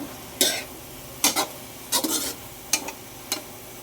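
A spatula scrapes and stirs adobong talong with spicy sardines in a pan in five separate bursts. A faint sizzle runs underneath and the sound is close.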